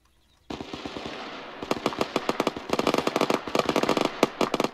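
Rapid bursts of automatic gunfire from the military shooter game ArmA crack out loud and close, starting abruptly and continuing as dense, irregular volleys until the end.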